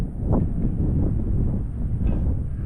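Gusty wind buffeting close against the microphone on an exposed rock, a low rumbling roar that swells and eases in uneven pulses.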